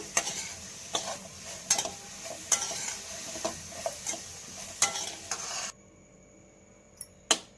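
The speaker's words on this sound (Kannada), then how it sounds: "ಸಿಮ್ಮಲ್ಲೇ ಚೆನ್ನಾಗಿ ಫ್ರೈ ಮಾಡ್ಕೊಳ್ಳೋದು ಮಶ್ರೂಮು." Mushrooms with a little turmeric powder frying over low heat in a pan, heard as a soft steady sizzle broken by repeated scraping stirs, close and fairly quiet. The sizzle drops away near the end, leaving one last sharp clink.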